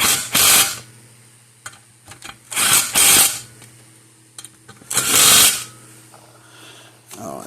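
A ratchet tightens bolts on a Gallagher load bar weigh scale in three loud, rapid clattering bursts, with quiet pauses and small tool clicks between them.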